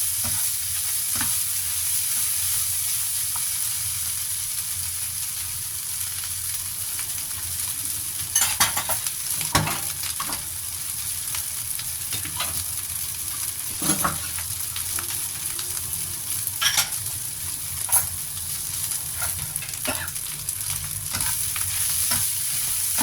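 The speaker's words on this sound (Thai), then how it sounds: "ผัดให้แห้งนิด นึง" Leftover larb fried rice is stir-fried dry in a pan, giving a steady loud sizzle broken by repeated scraping and clinking spatula strokes, with no voices.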